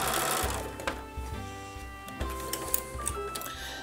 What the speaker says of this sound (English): sewing the simple curves, matching the stay stitching, matching the registration marks, and sewing all the way to the end